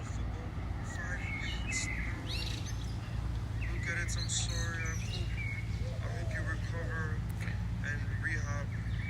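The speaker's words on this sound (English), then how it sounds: "You hear the birds right now?" Birds chirp and tweet repeatedly outdoors on a street, bright calls scattered over a constant low hum of traffic and city background, with some voices mixed in.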